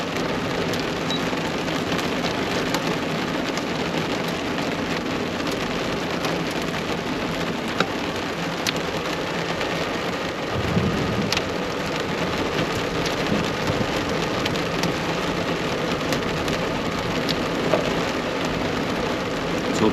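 Heavy rain pours steadily on a truck camper during a thunderstorm with some hail, a dense continuous wash of drumming on the roof with low thunder rumbles underneath, loud and close throughout with no talking.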